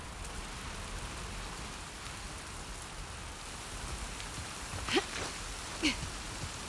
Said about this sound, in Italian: Pioggia e buio.